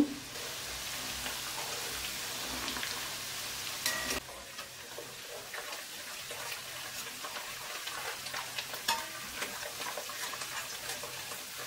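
Curry leaves crackle and sizzle in hot oil for a chicken pickle, a dense, steady spitting hiss with scattered sharp pops, close and fairly quiet, with a brief louder burst partway through.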